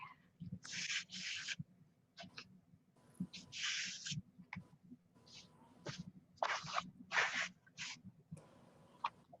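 Scissors or a trimmer cut a paper page for a scrapbook in a quiet room, a series of short close rasping snips and slides with faint handling noises between them.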